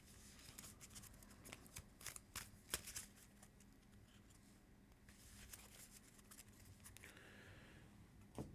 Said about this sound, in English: I needed to shuffle the challenge deck